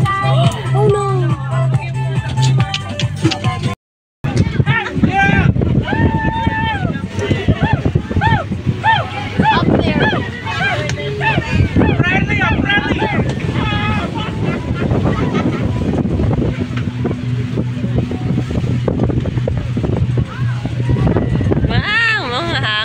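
Strong wind gusting over a boat heading toward a shoreline, loud and continuous with water noise and heavy microphone buffeting, a brief dropout near the start, and excited voices shouting throughout.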